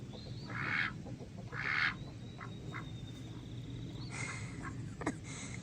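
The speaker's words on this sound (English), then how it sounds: "Oh, I forgot about the duckies." Ducks quack outdoors on a farm where ducks and chickens are kept together, with two distinct quacks early on and more calls later over a steady background of birds and ambient noise.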